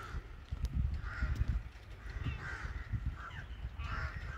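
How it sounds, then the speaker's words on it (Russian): Crows caw loudly outdoors on a warm spring day with puddles around, their harsh calls repeating in several bursts over steady outdoor background noise. "Вороны орут вовсю."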